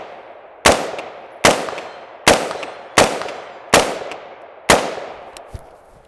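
Six loud AR-15 rifle shots ring out at an outdoor target range, evenly spaced under a second apart, each a sharp close crack with a short echoing tail.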